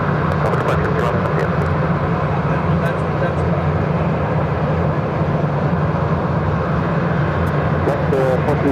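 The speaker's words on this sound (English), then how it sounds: "Next takeoff is Frontier Cruise, the Island Fox livery, finally heading to Santa Ana on the A320 Neo." A Frontier Airbus A320neo in Island Fox livery roars on its takeoff roll at Phoenix airport, a loud steady broadband rumble lasting throughout, with radio chatter and talk over it.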